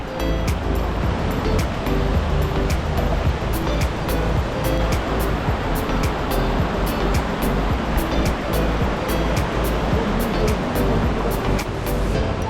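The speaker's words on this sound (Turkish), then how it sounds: "Şelale." A waterfall on a Colorado road trip, a loud unbroken rushing roar of falling water mixed with some wind buffeting, heard close with no talk.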